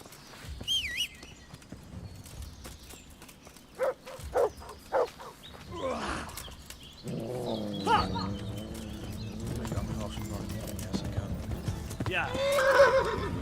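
Horses whinny and hooves clop in Kingdom Come: Deliverance, a medieval role-playing game, with sharp clip-clop strikes and neighs early on, then a louder, busier stretch of overlapping neighs, hoofbeats and possible dog barking.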